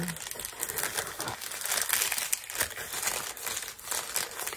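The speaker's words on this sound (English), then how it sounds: "nice and crinkly, isn't it?" Mail packaging is crinkled and handled close up, giving dense, continuous crackling and rustling throughout with no talk over it.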